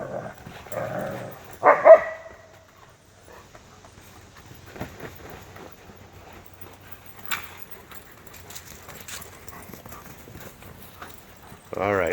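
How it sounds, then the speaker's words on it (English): Dogs play fight on a trampoline, with a quick burst of growls and barks early on, then sparse thumps, scuffles and bouncing noises at a moderate distance. A sharp yelp-like sound comes at the very end. "Come on, trampoline dog fight."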